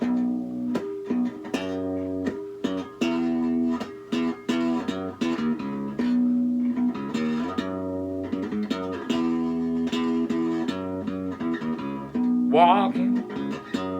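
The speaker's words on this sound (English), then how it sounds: "the song's never been played on bass before." An electric bass plays a melodic line alone, with distinct plucked notes in a steady rhythm and a brief higher slide near the end.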